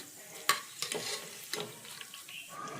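Grated coconut frying in oil for poha chivda, with a steady close sizzle broken by several sharp scrapes and clinks of a spoon stirring it around the pan.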